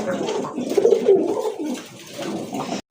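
A pair of pigeons gives a close, continuous throaty cooing that swells and rolls for nearly three seconds before cutting off abruptly.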